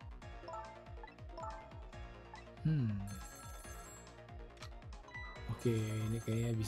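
A telephone rings in the Nintendo Switch game Ghost Trick, with repeated electronic ring bursts among steady game music and blips, and a voice faintly audible.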